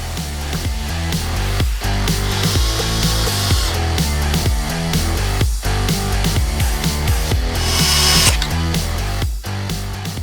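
Power driver running T15 screws into a Jeep Wrangler JK headlight trim ring, several short whirring bursts with brief pauses between them, close and fairly loud.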